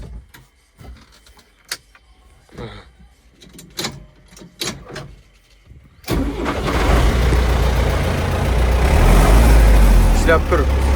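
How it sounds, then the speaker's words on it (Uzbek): An MTZ 82.1 tractor from 2021 cranks and fires up after several seconds of scattered clicks and handling noises, then settles into a loud, steady diesel idle that fills the rest of the scene. "Traktorni bir yoqib ham zavod qilib ko'rsatamiz"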